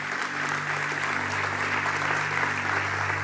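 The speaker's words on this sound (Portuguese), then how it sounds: "Dê o melhor aplauso que você pode dar ao Senhor" A church congregation applauds during an evening service, a dense steady clapping that holds throughout over a low sustained musical hum.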